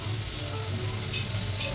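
Kebabs made with boiled chickpea-lentil paste sizzling in a frying pan, a steady close crackle and hiss of hot oil that continues evenly without pause.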